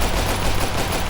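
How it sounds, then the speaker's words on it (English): Gunfire in a Bloodborne zombies map in a video game, a dense rapid burst of shots filling a brief one-second stretch, loud and continuous. "when I aim down the sights and shoot it"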